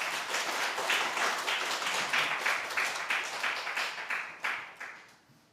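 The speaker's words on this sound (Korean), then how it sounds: "왕신 예수님께 박수 올려드리겠습니다" A church congregation claps through a Christmas Day worship service, a dense, steady patter of many hands that swells and then tapers off in trailing bursts, with no voices over it.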